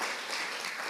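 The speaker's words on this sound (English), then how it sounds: "So let's give them a round of applause." A brief burst of crowd applause at a preservation awards ceremony, recognizing Historic Nashville's board and advisors, dense and continuous but fairly soft.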